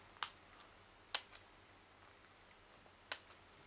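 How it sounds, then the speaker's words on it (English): Scissors snip through parchment in three separate crisp, close cuts spaced about a second or two apart, with quiet pauses between them. "Bring your scissors down and snip."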